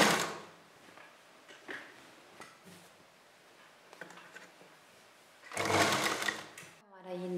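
A sewing machine stitches the neckline of a long side-slit kurti in a short, close burst near the end, after quieter fabric handling. A voice is heard too.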